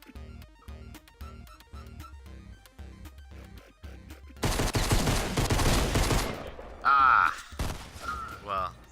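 Gunfire breaks out in Fortnite, a dense burst of rapid shots arriving after a stretch of steady rhythmic music, followed by a few sharp tonal effects and scattered louder hits.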